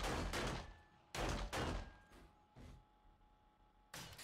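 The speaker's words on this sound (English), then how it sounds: "Let's put a couple rounds into the shotgun turret here." Several loud shotgun blasts fired into a shotgun turret in 7 Days to Die, heavy bursts in uneven clusters with short gaps, each decaying into quiet, no talking.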